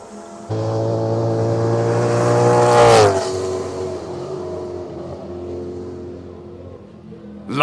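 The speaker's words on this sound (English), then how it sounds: "XKRR V8 supercar. And he's been waiting for this run the whole weekend. So go, Franco, listen to the sound of this crazy car" A Jaguar XKRR V8 supercar running nitrous oxide races uphill at the Simola Hillclimb, its loud close engine droning steadily, rising in pitch, then shifting down with a sharp drop before receding.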